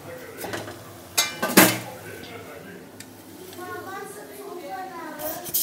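Bottle gourd muthiya dough is shaped by hand and set into a cooker in a home kitchen. A few sharp metallic clinks and clatters of utensils sound close by, while someone talks throughout.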